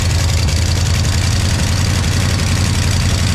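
A 1982 Ford F-150 truck engine idles steadily and close near the exhaust, a dense low rumble with a constant rough, chugging texture and no pauses.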